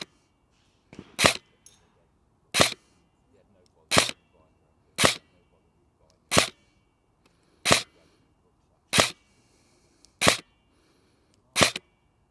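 A Cyma CM.009E XM177-style airsoft rifle fires 0.28 gram BBs at a target at 30 metres: about nine sharp single cracks, evenly spaced and each alone, with near silence between shots.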